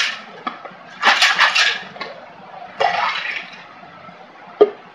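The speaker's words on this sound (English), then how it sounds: "Quick shake here." Ice rattling in a shaker as a Sundial Smash cocktail with grenadine, pineapple and orange juice is shaken: two short, bright bursts of shaking with quieter clinks between and a sharp knock near the end.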